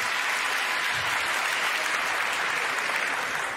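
Dense, loud theatre audience applause for a stand-up comedian, a continuous unbroken wash of clapping lasting the full few seconds.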